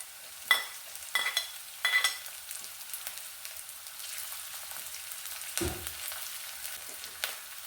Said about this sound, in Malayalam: ഇനി ഇതിലേക്ക് കുറച്ച് കറിവേപ്പില അരിഞ്ഞു വെച്ചിരിക്കുന്നത് ഇട്ട് കൊടുക്കാം എല്ലാം കൂടി നന്നായിട്ട് വഴറ്റിയെടുക്കാം